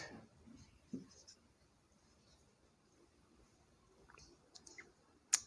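A pen scratches across paper in short strokes, quiet and close, with a few soft taps and clicks as numbers are written for a physics problem.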